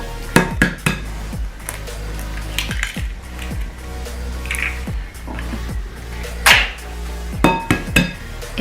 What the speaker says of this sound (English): Break in the eggs.